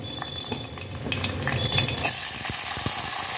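Turkey berries (sundakkai) frying in a pan, with a steady crackling sizzle and occasional scrapes and clinks of a spoon stirring, close and moderately loud.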